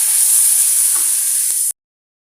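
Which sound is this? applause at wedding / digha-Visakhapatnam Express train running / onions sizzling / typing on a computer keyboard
onions sizzling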